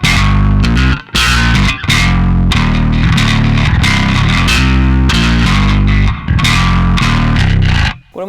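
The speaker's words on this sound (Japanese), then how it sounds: "これオクターバーですね。" A bass guitar played through an octaver effect pedal gives a loud, thick, distorted tone with deep doubled low notes, in a continuous run of plucked phrases with a few brief gaps and no talk.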